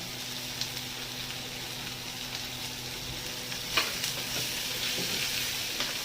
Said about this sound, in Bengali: তো আমার আদা বাটা দিয়ে কষানো হয়ে গেছে